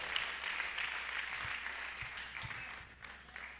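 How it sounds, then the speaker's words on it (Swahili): A church congregation applauds for Jesus in steady, dense clapping that fills the room, with faint ululation woven through and a few low thumps underneath. "tupatie Yesu makofi na vigelegele"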